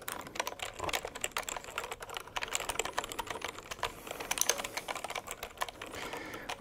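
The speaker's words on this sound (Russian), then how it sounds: "Я просто немножечко поклацаю." A mechanical computer keyboard tapped and clicked in a steady, dense patter of crisp keystrokes, close and moderately loud, with no voice.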